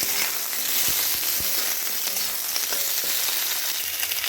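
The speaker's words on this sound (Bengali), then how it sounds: "এর মধ্যে দিয়ে দিচ্ছি কেটে রাখা শিম একসঙ্গে এগুলো এর সঙ্গে ভেজে নিচ্ছি" Tangra fish frying together with cut flat beans in a pan, a steady dense sizzle close by with a few sharp stirring knocks, no talk.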